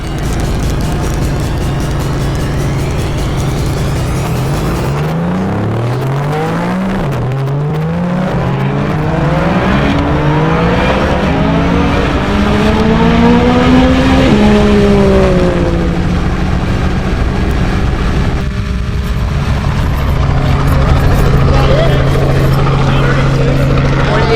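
A 2500+ horsepower Nissan GT-R tuned by ETS roars loudly on a record run at Shift S3ctor, its engine climbing through several rising gear pulls with whining, spinning tires, then settling into a sustained high drone.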